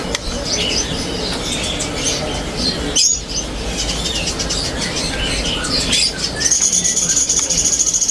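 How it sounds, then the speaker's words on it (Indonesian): A male oriental magpie-robin sings continuously in bright, varied phrases with chirps and whistles, close and fairly loud, with other birds chattering in the background. "Jadi ini murai trotol jantan."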